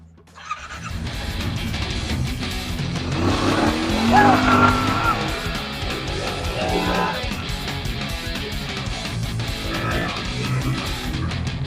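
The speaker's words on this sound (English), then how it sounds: "So we're gonna hit hill climb, go around, hit a bunch of whoops, and then I'm gonna do a brake check." A Yamaha RMAX side-by-side with a newly installed rear bump seat drives a hill climb and a run of whoops, its engine revving and surging up and down over bumpy terrain, loud and steady throughout.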